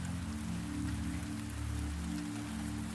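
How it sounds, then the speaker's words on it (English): Rain falling on the glass panes of a tall greenhouse dome at night, a steady dense patter with a low continuous hum beneath, even and unbroken. "The panes are dark with rain, silvered here and there by moonlight hidden behind the clouds."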